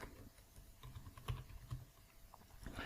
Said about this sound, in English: So I'm going to type down Composer create project.